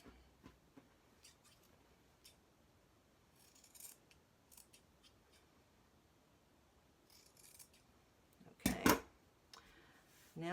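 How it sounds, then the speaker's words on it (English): Scissors trim the seam allowance of a fabric dog diaper, making a scattering of soft, quick snips near the listener, then a louder run of rapid cuts toward the end, with no talking. "it might make it easier to work with if you just trim this seam allowance a little as well"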